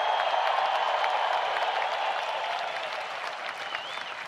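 A large crowd at the Pro Football Hall of Fame enshrinement ceremony applauds and cheers steadily, a dense, loud wash of clapping that holds throughout with no voices breaking through.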